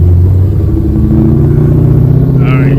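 A Dodge Hellcat rumbles past nearby with a loud, deep engine growl and pulsing low exhaust note that shifts in pitch as it moves, and a brief voice sounds near the end.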